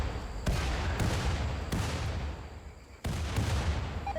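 Gunfire aimed at turrets in the video game RimWorld, a series of heavy booming shots at irregular intervals, each with a long decaying rumble, loud and close with no talk.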